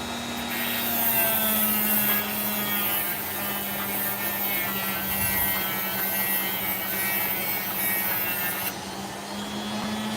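Grinding the sand base of an opal from Coopapiti, a steady abrasive rasp over a constant motor whine from the grinding wheel, continuous and close, with the pitch shifting slightly as pressure changes.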